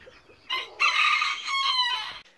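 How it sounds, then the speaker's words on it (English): Guinea fowl keets, newly hatched chicks, give a burst of high, bright chirping calls that overlap in a near, loud chorus, with no talk. "these aren't just any chicks, these are guinea fowl chicks"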